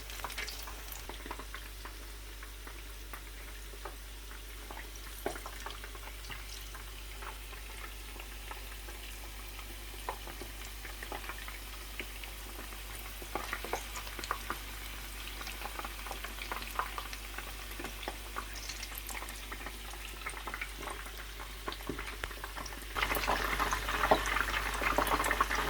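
Chicken pieces for chilli chicken fry in hot oil with a steady, soft crackling sizzle and scattered pops that swell slightly louder near the end.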